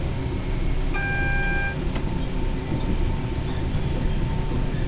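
A Class 166 train passes in Train Sim World 5, a steady rumbling rail roar with a brief high tone near the start and faint clickety wheel beats throughout, no talk.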